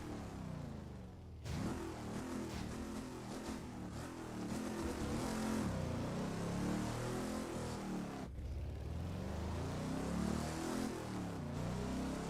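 A Koenigsegg supercar accelerates hard in the racing game Test Drive Unlimited 2, its engine roaring loud and close through rising gear sweeps, with a sharp cut before a second surge of revving, no voices.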